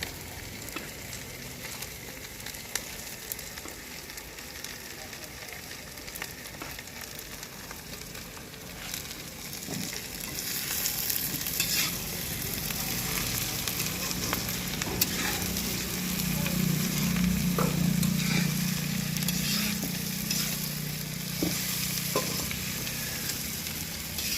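Chopped capsicum fries in a pan for a paneer sabzi, giving a steady sizzle with scattered stirring scrapes that grows louder and fuller partway through, close by and alone.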